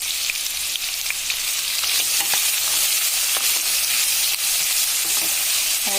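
Onions and capsicum frying in a pan for paneer do pyaza give off a steady, loud sizzle, with stirring clatters breaking through now and then and no voices.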